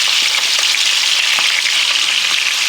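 Sausage patties sizzle and fry in a pan, a steady close hiss of crackling fat throughout with scattered small pops and no talking.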